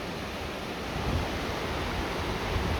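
Waterfall at Janet's Foss or Gordale Scar, heard as a steady, loud broadband roar of rushing water that swells slightly partway through, with no voices.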